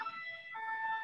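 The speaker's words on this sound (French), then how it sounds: "Ah non, c'est rien, c'est une ambulance" An ambulance siren sounds close by, steady two-tone wailing that shifts pitch midway and holds loud and clear throughout the short stretch, with no voices over it.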